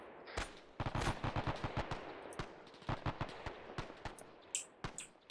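Enemy machine-gun fire in the WWII game Task Force Athena on Guadalcanal, sounding as scattered bursts and single cracks through a faint, distant-sounding battle mix, with some louder sharp shots near the end.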